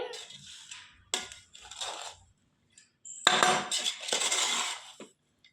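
A spoon scrapes and clinks against a pot as biryani is stirred, in several short irregular bursts separated by near-silent pauses, with a longer, louder stretch of stirring toward the end.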